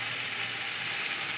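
Spice paste (masala) frying in a pan gives a steady, even sizzling hiss with no other sounds, brief and moderately close.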